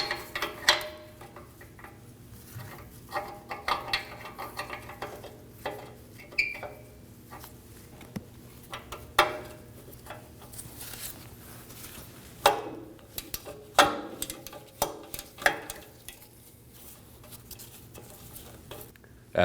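A 22mm split O2 sensor socket works loose the upstream oxygen sensor on a 2003-2006 Subaru Baja 2.5L H4, making faint ratcheting clicks and scattered metallic taps and scrapes at close range.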